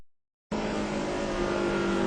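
A NASCAR Cup car roars loudly and steadily after a short silence, its engine note holding through a slide on track.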